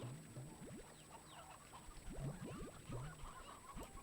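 Chickens in the video game Slime Rancher 2 cluck in short, quiet bursts, several soft calls scattered over a faint, steady background hum.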